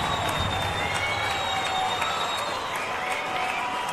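A crowd at an Australian rules football grand final, Nightcliff versus St Mary's, gives a steady wash of distant cheering and applause, loud and continuous with no break.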